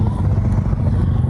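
A motorcycle engine, heavily loaded, drones with a close, steady low rumble throughout the moment.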